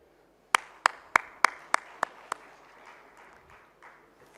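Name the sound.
audience applause welcoming a guest on stage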